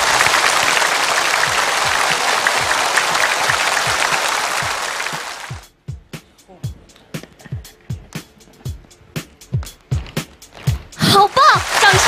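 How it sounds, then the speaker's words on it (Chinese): Studio audience at a Chinese variety show applauds to encourage a child performer, a dense, steady clapping wash for about five seconds that abruptly stops, followed by a series of sharp rhythmic thuds like a jump rope striking the stage, with voices underneath. "我们大家掌声鼓励一下小磊"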